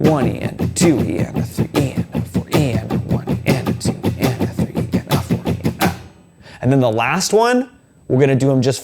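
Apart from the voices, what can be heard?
None of the usual background noises is heard.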